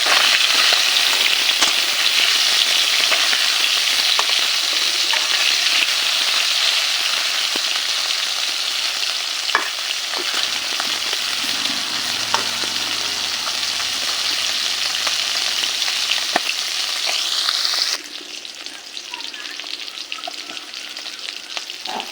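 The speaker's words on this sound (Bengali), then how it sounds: "মাছগুলো ভাজা হয়ে গিয়েছে" Local freshwater fish frying in smoking-hot oil, giving a loud, continuous crackling sizzle that carries on for a long stretch, then drops abruptly to a quieter simmering hiss near the end.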